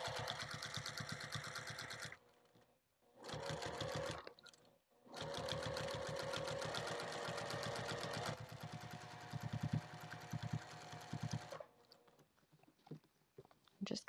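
Sewing machine stitching binding onto a sling bag, a steady fast mechanical whir in several runs separated by short pauses, close and fairly quiet.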